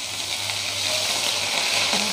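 Ginger garlic paste with cinnamon and black cardamom sizzling hard in hot oil for rajma, a loud, steady hiss with a faint scrape of stirring and no voices.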